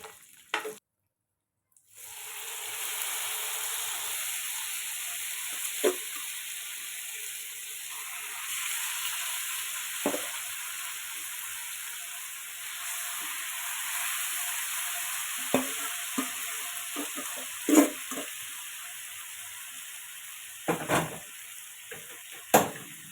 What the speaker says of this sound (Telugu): నేను చికెన్లో కలపలేదండి కొంచెం పక్కన ఫ్రై చేసుకొని పెడదామని చెప్పి తీసుకుంటున్నాను